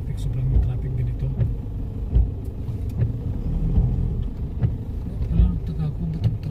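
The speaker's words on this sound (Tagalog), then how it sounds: "yung traffic, sobrang yung traffic din ito" Heavy road traffic in the Philippines rumbles with idling and slowly moving car engines close by, a low, continuous drone with occasional swells as vehicles inch forward.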